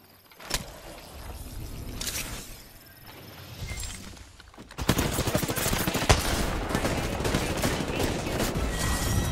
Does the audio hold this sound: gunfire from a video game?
yes